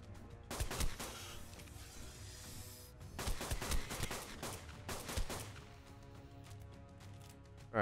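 Rapid bursts of fabricated pistol fire in Ark: Survival Evolved, several quick volleys of shots separated by short pauses, fairly quiet overall with game ambience underneath.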